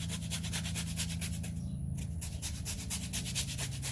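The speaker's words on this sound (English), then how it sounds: "Now I'm gonna do a little bit of zest." Citrus zest being grated for a skirt steak pinwheel recipe, a quick series of soft rasping strokes close by, fairly faint and rhythmic.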